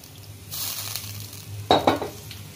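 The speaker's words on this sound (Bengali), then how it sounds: "জল দিয়ে দিয়েছি, আর একটু জল লাগবে, মাছটা সেদ্ধ হতে দিতে হবে।" Koi fish curry cooks in added water in a pan, with a steady soft sizzle and bubbling, then a couple of brief, close stirring scrapes and clanks.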